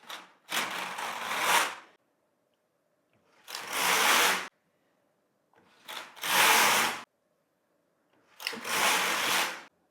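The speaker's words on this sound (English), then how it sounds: "and I take my carriage across." A Singer Solo hand knitting machine carriage pushed across the needle bed four times, each pass a loud rushing mechanical whir of about a second and a half, separated by brief silences.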